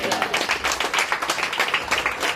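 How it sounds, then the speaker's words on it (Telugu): A church congregation at a Sunday thanksgiving service claps hands together in a rapid, fairly even rhythm, a dense close burst of many clappers with no talk over it. "గట్టిగా చెప్పలు కొట్టండి"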